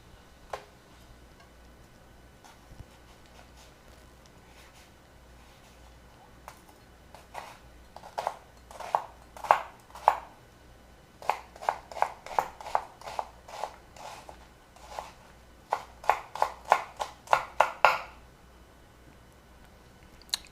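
An onion is diced on a cutting board with a knife, sparse taps at first building into quick bursts of crisp, close chops, with quiet gaps between.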